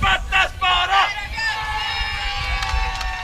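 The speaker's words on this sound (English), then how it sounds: "You hear Sweden cheering in last the background." Swedish team supporters cheer and shout from a distance at an archery field championship team final in Poreč, a crowd hubbub rising under nearby voices and other sounds throughout.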